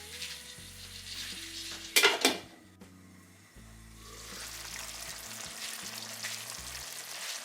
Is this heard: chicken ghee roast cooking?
yes